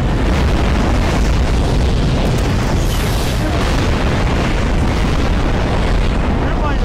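Explosions in Garry's Mod roar as a continuous, dense wall of loud booming blasts across the whole stretch, with no talk over them.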